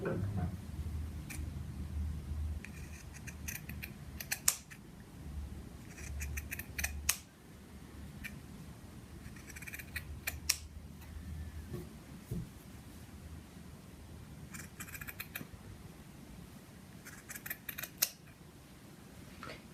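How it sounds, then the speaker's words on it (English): Scissors snipping through knitted fabric during steeking, a series of quiet crisp cuts in irregular clusters, close and faint over a low room hum. "Continue to cut in a straight line until you get to whatever opening you've made for your Steek."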